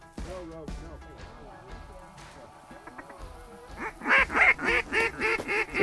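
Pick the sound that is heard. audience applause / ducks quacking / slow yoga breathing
ducks quacking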